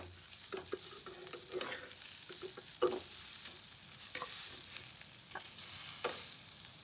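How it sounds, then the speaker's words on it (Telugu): Fish fries in a pan in a home kitchen, giving a soft continuous sizzle with scattered stirring clinks and scrapes, fairly quiet and with no talking. "ఫిష్ ఫ్రై చేస్తున్నా."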